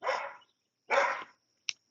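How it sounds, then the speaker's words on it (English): A neighbour's dog and the household dogs trade barks outdoors: two loud, close barks about a second apart, then a short sharp yip and the start of another bark, with no talk. "our next door neighbor's dog is trying to start a war with my dogs"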